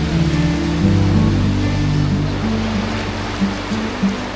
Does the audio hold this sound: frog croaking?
no